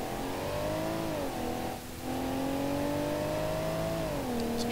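A modern SUV in the BeamNG.drive driving game accelerates with a steady engine drone that rises in pitch, dips briefly as it shifts gear, then climbs again, with a faint click at the end.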